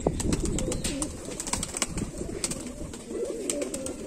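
Kamagar pigeons held in the hand coo softly and repeatedly up close, with faint rustling and fluttering mixed in.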